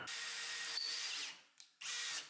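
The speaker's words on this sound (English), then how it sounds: "I drill holes where I can add some small screws, which will be the rattling bits, and then laminate it together." A power drill bores holes in wood for baby rattles, two bursts of high whining drilling with a brief pause between them, close and loud.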